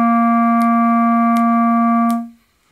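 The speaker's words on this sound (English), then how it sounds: "Let me play that for you and count along with my snapping as I play so you can hear those 4 beats." A single held note sustained for a whole note of four beats, ringing steadily and cut off after about two seconds, with three crisp finger snaps marking the beats over it; no talking.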